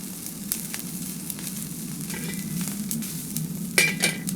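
Salted mackerel grilling on a homemade grill over an outdoor wood fire, a steady soft sizzle with scattered pops and crackles, one sharper burst near the end, close and without talking.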